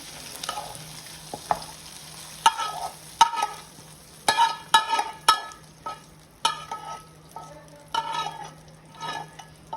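Spices for tempering Andhra pappu charu frying in hot oil: a soft steady sizzle broken by sharp irregular crackles and pops, with occasional stirring clatter, close and moderately quiet.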